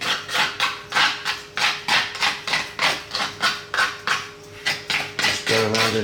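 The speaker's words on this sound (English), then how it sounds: "simply we're going to just trim this up. I'll just do that with a little knife on the side here" A small knife trimming homemade spinach egg pizza dough along the pan edge, tapping and scraping in a quick, even rhythm of about a dozen close, sharp strokes, with a brief rattle at the end.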